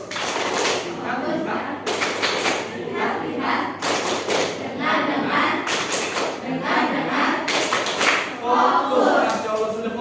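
A group claps together in bursts of rhythmic patterns, with voices talking and chanting over the steady clapping.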